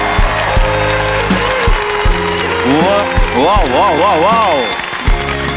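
Warm audience applause welcoming a Malaysian singer on stage, a steady wash of clapping beneath loud music and a brief excited shout, with a singing voice rising over the crowd.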